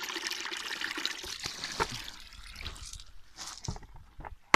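Pond water scooped out with a bucket, faint splashing and trickling with irregular sloshes and drips, close by and quiet, with no talk.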